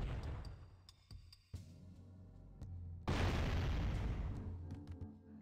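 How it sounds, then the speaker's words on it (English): Explosions in the Jak and Daxter video game land as several deep booming blasts, the last one loudest and followed by a long rumbling decay, with faint sharp clicks in between. "The fucking sound of the explosion."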